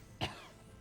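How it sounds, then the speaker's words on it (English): A single short cough, fairly close and moderately loud, breaks a quiet backdrop during StarCraft match commentary, with no talking over it. "I apologize for coughs."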